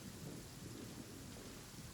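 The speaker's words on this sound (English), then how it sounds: "Taking a stroll in the middle of a downpour" Steady rain pours in a video game thunderstorm, with a low rolling thunder rumble underneath and a dense, even hiss of falling water throughout.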